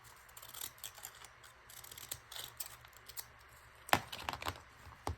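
Scissors cutting paper for a glue book page, a series of small crisp snips and rustles, close and fairly quiet, with one sharper snip near the end.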